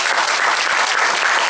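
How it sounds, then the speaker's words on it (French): Brief burst of dense audience applause at a public meeting, steady clapping from a roomful of people with no talk over it. "Je vous prie de l'applaudir s'il vous plaît."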